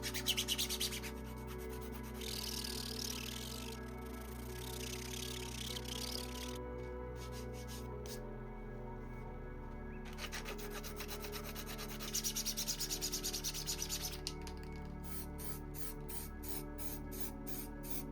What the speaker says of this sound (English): I'm going to give them a light sand over to make them smoother.